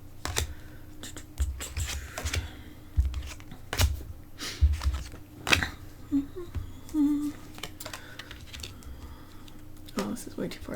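Oracle cards shuffled by hand on camera: a series of crisp, close card slaps and soft riffling rustles in irregular bursts, with a voice in the background.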